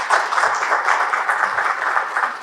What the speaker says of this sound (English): Can I please get a generous round of applause for this wonderful panel?